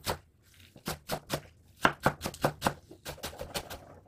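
Homegrown green onion (daepa) minced with a knife on a cutting board, a quick series of crisp close chops in uneven bursts, about a dozen sharp knocks.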